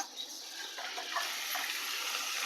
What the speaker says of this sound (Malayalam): നേരത്തെ അരിച്ചു വെച്ചേക്കുന്നില്ലേ നെല്ലിക്ക അതിന്റെ മിക്സ് ഒഴിച്ചു കൊടുക്കുക